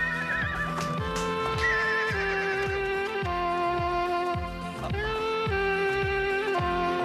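Rocky, a newly acquired horse, gives repeated shrill whinnies over a sustained musical score, with a quick rhythmic clip-clop of hooves running throughout, close and steady.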